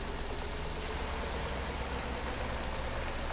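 Steady rain falling in Farming Simulator 19, a dense even hiss of drops on surfaces, continuous and fairly faint, with no voices.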